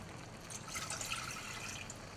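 Water poured into a couscous mixture, a steady, soft splashing stream that runs close by for about two seconds, with no talking.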